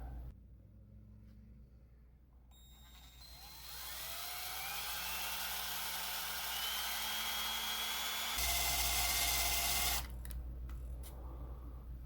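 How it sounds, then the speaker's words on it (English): A power drill whirs up and runs in a steady high whine for several seconds, then surges louder before cutting back, close by. "Don't want to drill into my finger."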